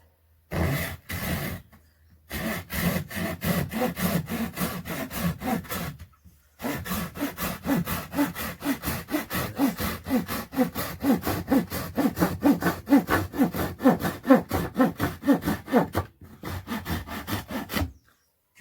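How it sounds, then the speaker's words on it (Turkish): A hand saw cuts through wood for a kitchen shelf in a village house, close and loud, with steady rhythmic back-and-forth strokes broken by a few short pauses. "Evet, işaretlediğim yerden kesiyorum."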